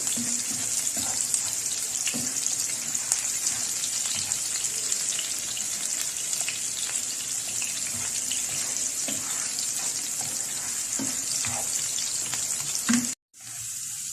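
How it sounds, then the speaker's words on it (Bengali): Chopped green chillies and onion frying in a pan, a steady, dense, hissing sizzle with scattered crackles and light stirring, close and constant before cutting off abruptly near the end. "এগুলো আমি সবগুলো একটু ব্রাউন কালার করে ভেজে নেব।"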